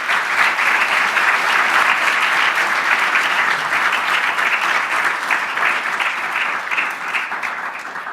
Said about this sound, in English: So how about a round of applause for all those folks?